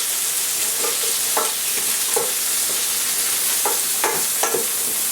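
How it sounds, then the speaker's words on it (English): Leeks and a sprig of thyme sizzle steadily in a pan over reduced heat, with soft scrapes and clicks from stirring cutting through the constant close-up hiss. "we are going to add our leek into the pan and also our sprig of thyme"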